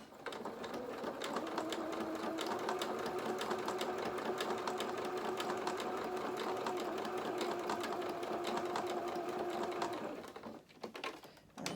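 A sewing machine runs steadily for about ten seconds, stitching down the side of a small fabric toy, then stops with a few soft clicks as the work is handled.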